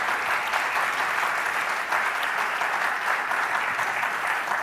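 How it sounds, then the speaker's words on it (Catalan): Loud, sustained applause from an audience at the opening session of a romesco sauce congress in Tarragona, steady and dense throughout with no speech over it. "un fort aplaudiment."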